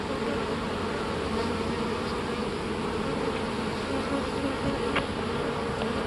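Dense, continuous buzzing of many honey bees at close range around a hive during beekeeping, a steady swarming drone with no voices.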